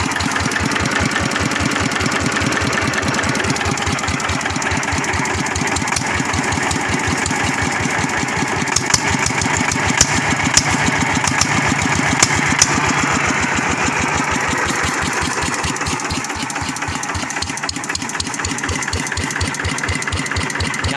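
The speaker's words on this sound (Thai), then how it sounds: "RT ร้อยสิบใส่ท่อ ET เก้าห้าเพื่อนนะเนี่ยนะ" An RT110Di engine fitted with an ET95 exhaust pipe idles loudly and evenly, its rapid regular pulses thumping close and unbroken throughout, with a few sharper knocks near the middle.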